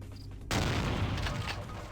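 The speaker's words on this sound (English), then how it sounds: "Oh boy, that's a shotgun." A single loud shotgun blast in a vampire-themed video game, a sudden booming hit followed by a rumbling, slowly fading tail.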